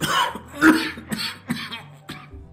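Several rough coughs in a row from a character in the video game Alpha Protocol, loud and close, each a sharp burst followed by a raspy tail, with brief pauses between them.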